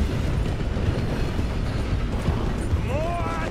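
A train from the video game Red Dead Redemption rumbles along in a continuous heavy mechanical roar, with a short high whistle-like sweep near the end.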